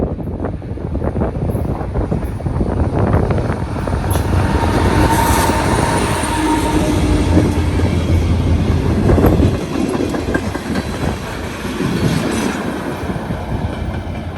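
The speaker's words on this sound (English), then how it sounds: "And here comes the train on the way to Moraine." A Norfolk Southern train rumbles past close by on a street-running spur, with rhythmic clickety-clack from the wheels, heavy wind buffeting the microphone throughout.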